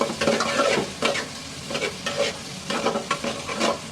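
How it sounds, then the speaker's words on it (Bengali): Onions frying in oil in a pan for a rohu fish curry, with a steady sizzle broken by repeated bursts of stirring and scraping, close and fairly loud. "পেঁয়াজগুলো ভাজা ভাজা হোক,"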